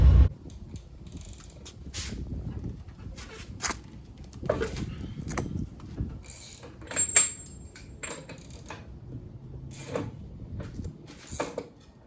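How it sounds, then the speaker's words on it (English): An SRT4 gearbox is shifted through its gears by hand with no clutch, giving close, irregular metallic clunks and clicks spaced a second or two apart over a quiet background with no talking. "I can go through some of the gears with no clutch"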